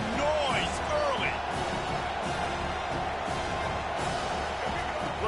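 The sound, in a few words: stadium crowd noise in the College Football 25 video game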